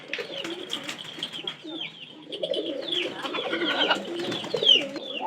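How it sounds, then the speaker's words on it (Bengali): Soft, rolling pigeon coos repeat in a steady rhythm close by, with faint chirps and light background noise around them. "দেখেন ওই যে আমাদের নতুন কবুতরের কি ডাক।"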